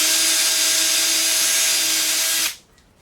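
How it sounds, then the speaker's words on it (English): Drill driving a 1 1/4 inch drywall screw into a particle board drawer, a loud, close, steady high whine lasting about two and a half seconds before stopping abruptly into quiet. "drill it in there a little bit."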